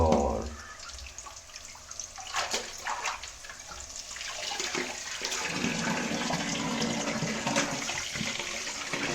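Water runs steadily from a kitchen tap while ginger is washed, a continuous splashing rush with irregular drips and handling noises, close and moderately loud, with no talking.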